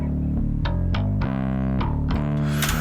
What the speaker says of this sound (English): I'm splitting the signal with the parallel output to capture just the raw bass DI